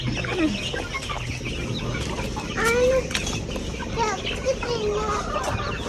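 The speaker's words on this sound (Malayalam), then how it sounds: "അയ്യോ വലിയ കോഴി ആ കൂട്ടില്ല" A big hen clucking inside a coop, several drawn-out rising and falling calls scattered over a low rumbling background, close by, with people's voices mixed in.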